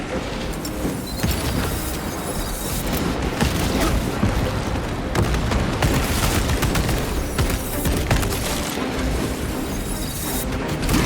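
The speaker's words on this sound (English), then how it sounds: "Using the shock grenade." A shock grenade detonates amid constant loud combat in Warhammer 40,000: Space Marine 2, with crackling, booming bursts and rapid gunfire layered into a dense, unbroken roar.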